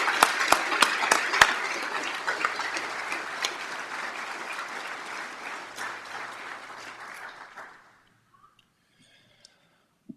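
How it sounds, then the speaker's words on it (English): A crowd applauds officers at a police department graduation ceremony: sustained, full clapping with a few sharp nearby claps that thins and fades out near the end, leaving a few isolated claps. "if you could please give them a round of applause"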